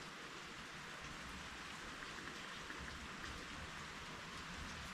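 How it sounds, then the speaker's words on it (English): Rain on an overcast day, falling as a steady, even wash of hiss and patter that stays constant and fairly soft throughout, with no voices. "It's a lovely overcast day with some rain."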